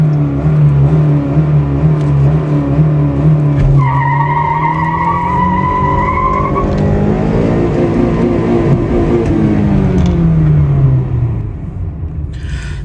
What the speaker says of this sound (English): And just listen to this exhaust.